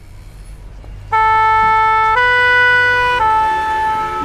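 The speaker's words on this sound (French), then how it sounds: "Les pompiers passent dans la rue à toute vitesse." A fire truck siren rushing down a street blares loud and close. Its tone steps between pitches in a steady two-tone pattern over low traffic rumble.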